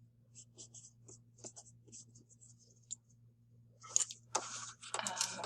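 A pen scratches notes onto paper in short, quiet strokes and taps, close and faint over a low steady hum, ending with a few louder rustling scrapes; no one speaks.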